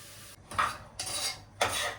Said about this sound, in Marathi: टाका आता सगळी भाजी.